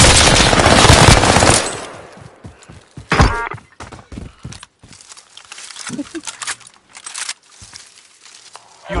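Gunfire in the video game Call of Duty Warzone: a loud burst of rapid automatic fire at the start, then scattered sharp shots and impacts with gaps between, mixed with game sounds.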